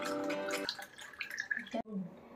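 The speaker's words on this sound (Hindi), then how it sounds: "now will fill this with water" Cool water from a clay matka pot pours into a glass while a kiwi mojito is made at home, giving a trickling, dripping splash under a steady background hum.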